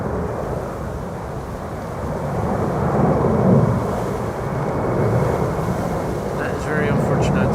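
An Atlas Air jet taking off at Amsterdam Schiphol Airport gives a distant, swelling jet roar mixed with wind buffeting on the microphone, while a voice talks over it.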